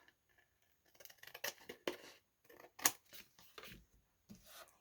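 Scissors snip through paper for junk journal elements, a handful of short, dry cuts spaced irregularly, close and quiet, with no voices.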